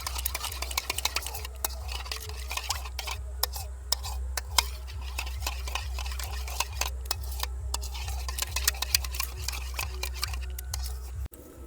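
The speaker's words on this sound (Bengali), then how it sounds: "এবার ভালো করে মিশিয়ে নেব মিশ্রণটাকে" A spoon clinks and taps rapidly against a steel bowl while a homemade saffron soap mixture is stirred, a quick, busy rhythm over a low steady hum, close and fairly quiet.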